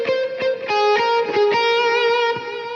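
Electric guitar through a Helix/HX Effects patch playing the intro of a song, a short run of ringing, sustained notes with rhythmic picked attacks, close and clear, with no talking.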